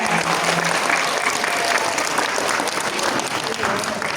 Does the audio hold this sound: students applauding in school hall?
yes